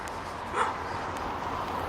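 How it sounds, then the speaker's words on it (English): Dogs bark somewhere outdoors, a few faint yips and woofs rising over a steady background of ambient noise, moderately distant rather than close. "I'm so sick of these goddamn dogs"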